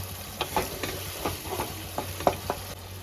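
A spice masala for chicken, loosened with a splash of water, is stirred and sautéed in a pan. A spoon makes soft, regular scraping strokes over a quiet, steady sizzle close by.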